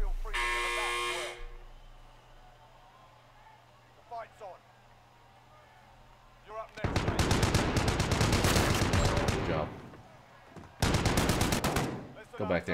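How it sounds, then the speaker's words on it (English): Rapid automatic gunfire in a shooter video game: two long, loud bursts of fast repeated shots, the first running several seconds and the second shorter, preceded by a buzzing electronic tone and quieter game sounds. "I was shooting him."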